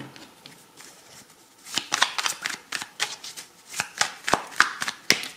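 A deck of tarot cards is shuffled by hand and dealt onto a table at close range, giving a quick crisp riffle and then a run of sharp slaps as cards land, with no talking.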